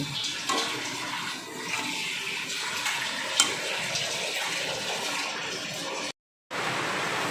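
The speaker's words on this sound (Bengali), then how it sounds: "এবার মোচাটা কিন্তু আমি জল থেকে ছেঁকে তুলে নিচ্ছি" Water drains and trickles steadily as boiled banana flower is strained out of a pot, a continuous splashing rush that breaks off briefly near the end before resuming.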